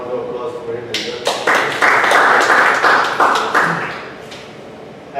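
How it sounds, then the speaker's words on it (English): Audience clapping at a Toastmasters club meeting, a steady round of applause building after a second and holding for several seconds from a roomful of hands, close and fairly loud. "so a round of applause for him as well"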